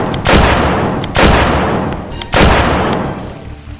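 Three loud sniper rifle shots in an online shooter game, spaced about a second apart, each a sharp crack that booms and decays slowly, with faint game ambience between them.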